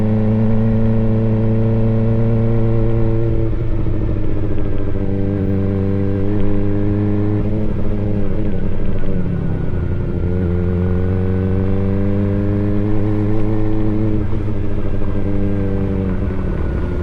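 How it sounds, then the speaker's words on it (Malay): A motorcycle engine idles and revs steadily up close, its pitch rising and falling, with a second engine droning alongside and no voices. "Kita paksa motor Aina tak bergerak."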